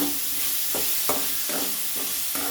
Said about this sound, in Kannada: ಇದನ್ನು ಚೆನ್ನಾಗಿ ಆಲೂಗಡ್ಡೆ ಬಾಡಿಸ್ಕೊಳ್ಳೋಣ.